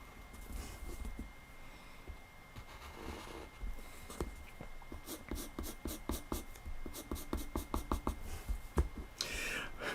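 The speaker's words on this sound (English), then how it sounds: "And now if I just draw the lines that the viewer would see" A pencil draws the lines of a 3D form on paper, close and quiet at first, then a run of quick rhythmic scratching strokes that builds toward the end.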